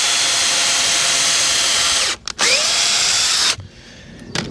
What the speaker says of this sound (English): We're going to pre-drill a hole,